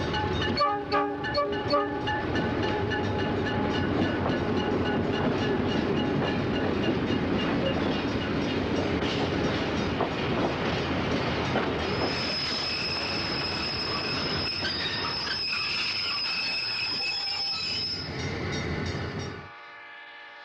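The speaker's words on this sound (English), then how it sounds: "Another train of old cars arrives at Blue Island behind a very tired-looking red and yellow" A passenger train of old cars rumbles in behind a red and yellow Rock Island E8A diesel locomotive at Blue Island, engine drone, horn blasts and squealing wheels, loud and close, then the noise cuts off sharply near the end.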